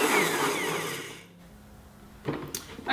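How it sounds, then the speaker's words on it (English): A Blendtec blender on its smoothie setting blends a kale green smoothie, starting as a loud, dense whir for over a second before dropping to a quieter low hum, with a few brief clatters near the end. "select smoothie on my BlendTech blender"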